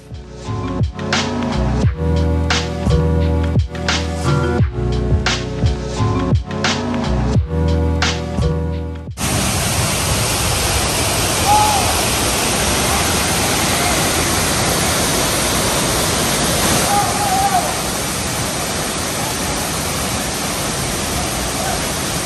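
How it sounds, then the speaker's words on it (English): The sacred Banyu Wana Amertha waterfall in Bali gives a loud, continuous broadband roar of falling water. The roar follows a short stretch of music at the start. "Sacred waterfall."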